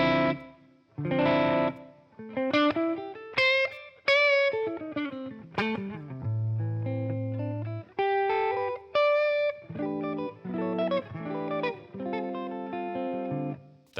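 Electric guitar played through a Matchless Laurel Canyon amp capture on a ToneX with a touch of small-room reverb, clean picked chords and single notes ringing out in phrases with short gaps, no talking.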